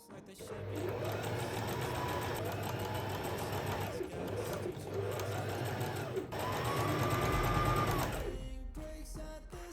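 A sewing machine stitches the side and shoulder seams of a leather trench coat, a close steady whirring hum in long runs with short pauses, ending in a few clicks.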